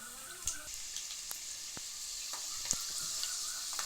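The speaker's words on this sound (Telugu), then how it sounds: "ఈ పోపులు బాగా ఎగిరిద్దాము." Tempering spices spluttering and popping in hot oil for poha upma, a soft steady hiss dotted with sharp little crackles, close and fairly quiet.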